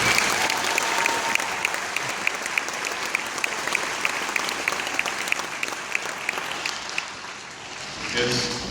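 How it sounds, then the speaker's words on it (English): Audience applause at a school honors band winter concert, steady sustained clapping from a large crowd for about seven seconds before fading, with a brief voice at the end. "another round of applause for her"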